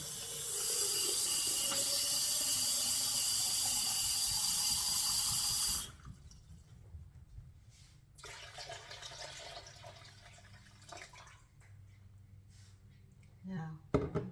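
Water gushes steadily and loudly into a soup pot for split pea soup for about six seconds, then stops, leaving quiet kitchen handling noises and a few soft clunks.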